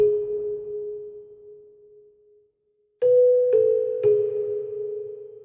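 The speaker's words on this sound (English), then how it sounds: "And without effects, the melody sounds like this" Plain, effect-free dark orchestral melody from FL Studio: a single sustained tone fading to silence, then three soft plucked notes in quick succession, clean and unaccompanied.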